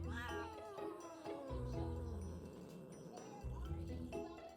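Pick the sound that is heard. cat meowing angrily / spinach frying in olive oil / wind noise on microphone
cat meowing angrily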